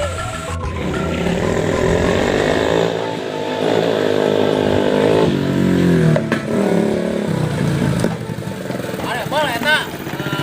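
A Honda Vario scooter's engine drones and revs loudly at close range, its pitch rising and falling, while voices talk over it.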